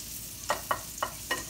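Pineapple salsa being mixed into rice with a spatula, four soft scraping strokes spaced roughly a third of a second apart over quiet background.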